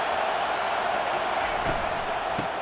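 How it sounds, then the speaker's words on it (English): Stadium crowd roaring in EA Sports College Football during South Carolina vs Clemson, a dense, steady wall of cheering that holds at full volume throughout with no pauses. "Listen to the crowd energy here in the early going."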